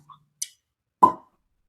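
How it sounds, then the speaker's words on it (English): A cork pops out of a bottle of 18-year-old rum: one sharp, close pop after a couple of faint ticks, in an otherwise quiet room. "That was a nice cork pop."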